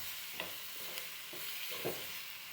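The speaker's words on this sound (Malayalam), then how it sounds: "ഇനി അത് വേവാനായിട്ട് കുറച്ച് വെള്ളം ഒഴിച്ച് കൊടുക്കാം." Beans sizzling in a frying pan as water is poured in for a Kerala-style egg and bean stir-fry, a steady broadband hiss with a few soft stirring knocks, close and moderately quiet.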